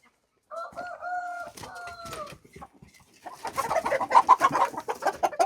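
A rooster gives drawn-out, harmonic calls followed by a busy stretch of rapid clucks and thin chick peeps, the later part louder and denser, close up in a farmyard with brief voices in between.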